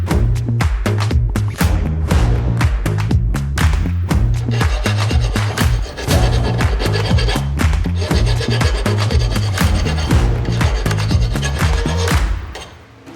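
Metal threads inside an adjustable guitar neck barrel being cleared out with a continuous loud rasping, grinding scrape that pulses in rhythm, close and alone without any talk.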